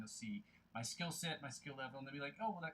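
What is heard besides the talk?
No everyday noises stand out.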